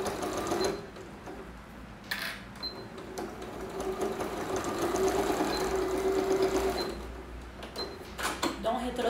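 A sewing machine stitching a children's toiletry bag with backstitching at the start and end, rapid mechanical needle chatter in short bursts with pauses and clicks between, close by, with someone talking over parts of it.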